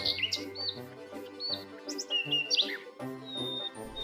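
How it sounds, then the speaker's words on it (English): Small bird chirping in quick, bright, high tweets, scattered through a soft musical background, in a children's English lesson about pet animals. "Bird, bird. B-I-R-D. Bird."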